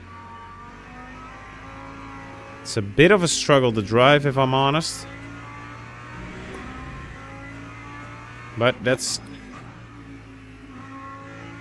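A V10 race car engine in the Le Mans Ultimate driving game hums steadily, then rises and falls in two sharp bursts of revving, while someone talks over it.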